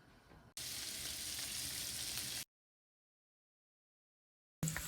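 Ingredients frying in a pot over medium heat for spaghetti carbonara, a steady hiss of sizzling for about two seconds, then sudden silence before the sizzle returns at the very end.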